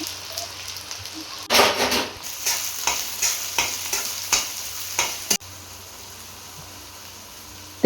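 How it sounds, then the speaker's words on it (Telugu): Onions tipped into hot oil in a pan for an Andhra-style fish curry, sizzling loudly with a run of scraping stirs before settling into a steady quieter fry. "ఆయిల్ బాగా హీట్ ఎక్కాక ఇలాగా ఆనియన్స్ మొత్తం అన్నీ వేసి బాగా కలపండి"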